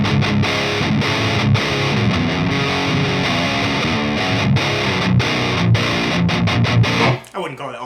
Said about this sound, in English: now I've dialed in a big, very saturated, almost freaking fuzzy kind of distortion on the Artemis